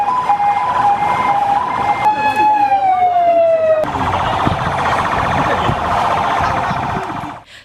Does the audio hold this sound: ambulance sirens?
yes